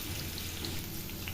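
Potatoes frying in hot oil make a soft, continuous crackling sizzle with scattered tiny pops, faint and steady throughout.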